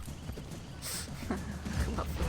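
Horse hooves clip-clopping in Assassin's Creed Brotherhood, a steady run of close muffled thuds under game music and effects, with a brief burst of brighter noise partway through.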